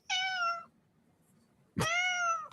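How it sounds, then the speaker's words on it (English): A domestic cat meows twice, close and clear, each cry long and tonal, separated by about a second of near silence, with no talk. "That's my fucking cat right there."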